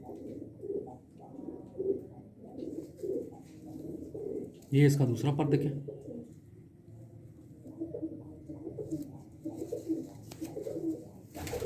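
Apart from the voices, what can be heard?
pigeons cooing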